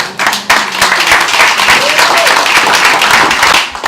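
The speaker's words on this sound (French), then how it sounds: "J'aimerais que vous acclamiez le Seigneur très très fort" A church congregation at a Sunday service bursts into loud, sustained applause and cheering. Dense clapping fills the room for several seconds from the start and rises into a steady roar of hands and voices.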